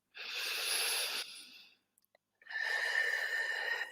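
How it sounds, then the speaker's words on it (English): Two long, close breaths, a drawn-in nasal inhale followed after a short pause by a steady exhale through the mouth, each lasting over a second, with no talking. "Take another deep breath in through the nose and out through the mouth"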